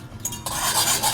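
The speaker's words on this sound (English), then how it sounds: "I'm gonna give a little whisk" Whisk stirring cooked chicken wings in a bowl: quick scraping and clinking against the bowl, close and steady for about a second, no talk.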